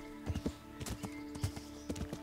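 Horse hooves clip-clopping on hilly ground in Kingdom Come: Deliverance, a quick uneven rhythm of hoof strikes up close with a steady background hum.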